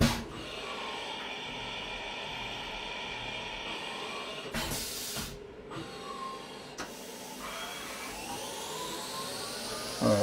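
Compressed air hisses steadily from a CNC machine's air nozzle over the running machine's drone, with a sharper, louder burst of blowing partway through and no talk.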